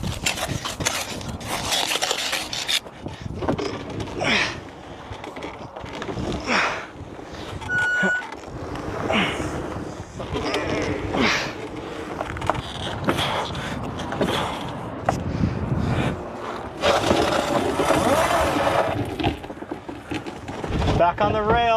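A buried tire is dug out beside an abandoned railroad, with repeated rough scraping, rubbing and shovel-like strikes at close range. Talk runs throughout, mixed in with the digging noise.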